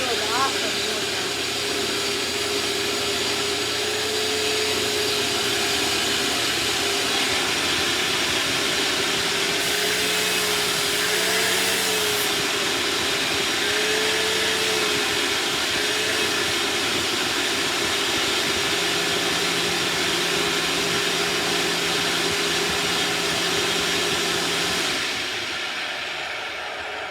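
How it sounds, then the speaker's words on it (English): A vacuum cleaner runs through a kitchen as a loud, continuous, close-up drone with a humming motor tone that wavers slightly as it moves. It runs without a break for nearly half a minute before easing off at the end. "I just vacuumed the whole entire kitchen"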